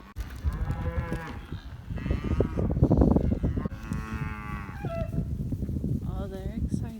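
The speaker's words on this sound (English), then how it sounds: "But we're calling the cows over." Cows on a farm moo repeatedly while being called over, several long, loud bellows overlapping one another at close range, with a brief lower call near the end.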